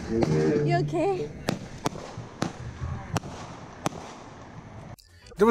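Fireworks at a fireworks show go off as a string of sharp, loud bangs spaced irregularly over a few seconds, with voices talking and calling out between the blasts.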